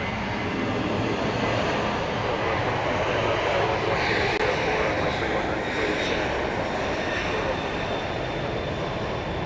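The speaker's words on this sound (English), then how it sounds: "Southwest 2189 is going to Birmingham, Alabama, 737-700. Turning and burning on Runway" A Southwest Boeing 737-700 takes off from a runway at Dallas Love Field at night, its engines a loud, steady, broadband roar that holds throughout, with a voice faintly talking beneath it.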